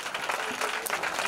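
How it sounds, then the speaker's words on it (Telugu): Audience applause at an action song performance, a steady wash of clapping that holds through the whole moment, fairly loud and close with no clear gaps between claps. "మెల్లగా చప్పట్లు కొడదాం నిజంగా"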